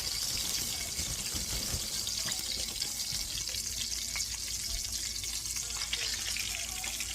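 Thick pieces of food fry in a pan during meal prep, producing a constant close sizzle and hiss with a few small clinks and watery crackles.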